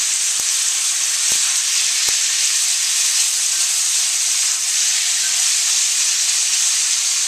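Bok choy stir fried in a hot pan for an instant ramen stir fry with pork, shrimp and vegetables, heard as a loud, steady hiss of sizzling oil with three sharp clicks early on.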